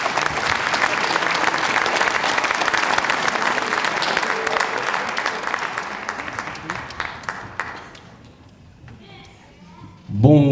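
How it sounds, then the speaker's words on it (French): A cabaret audience applauds as a man leaves the stage, a dense, loud roar of clapping that thins into scattered claps and quiets before a voice cuts in at the end. "on va raccompagner monsieur sous vos applaudissements"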